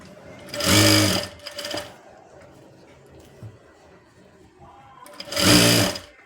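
An electric sewing machine stitching a blouse runs in two loud, close bursts of rapid whirring stitches, the first about a second long and a brief stutter after it, then a quiet pause before another burst near the end.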